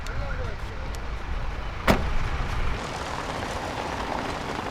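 A car pulls away, with a low engine rumble and road noise, a sharp knock or door-like click near the middle, then steady driving sound. A voice is faintly present beneath it.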